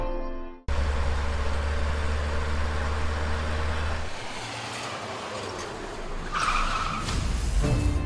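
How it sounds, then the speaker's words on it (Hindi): A car skids to a stop with a long, loud screech of tires and engine noise that fades as the car halts, with no voices. "गाड़ी क्यों रोकी?"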